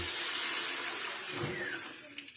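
Water pours with a splashy, continuous rush that gradually eases, close by, with a faint clink near the end.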